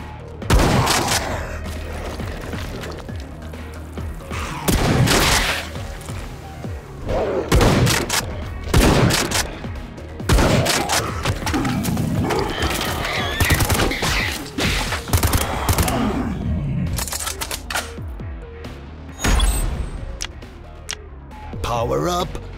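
Gunfire in an Android zombie shooter game, with dense bursts of rapid shots and heavy thuds arriving in waves throughout, loud and close, while a voice talks over the action now and then.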